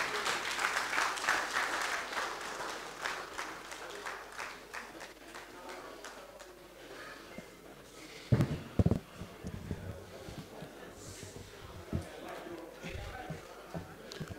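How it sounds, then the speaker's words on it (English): Audience clapping for the minister at a press briefing fades out over several seconds, followed by shuffling, knocks and movement noises as the room settles. "I think the Honourable Minister deserves another round of applause."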